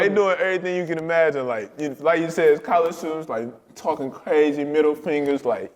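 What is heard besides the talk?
No everyday noise stands out behind the speech.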